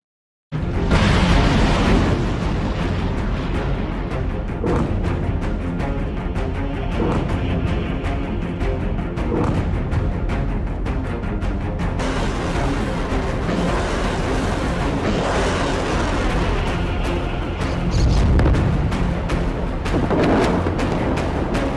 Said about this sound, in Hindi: ऊपर बम बरस रहे हैं